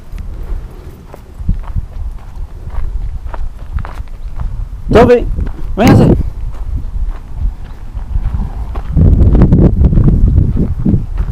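Horses shift and step around a farm lot, with scattered hoof thuds and rustling under wind buffeting the microphone; someone speaks, calling to one of the horses, and a louder scuffling burst comes near the end.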